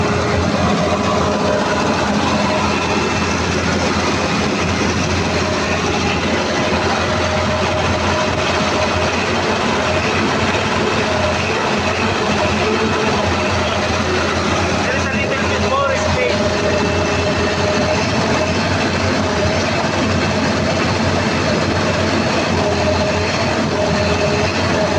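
A CAT 320D2 L excavator with a low-power fault has its diesel engine running, giving a loud, close, steady drone with a constant hum that holds throughout and lifts slightly in intensity partway through.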